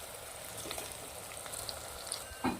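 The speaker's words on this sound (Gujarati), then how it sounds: "ડુંગળીને સરસ ઘીના અંદર સાતડી લેવાના છે." Onion and curry leaves sautéing in ghee give a quiet, steady sizzle with faint crackles and a brief clatter near the end.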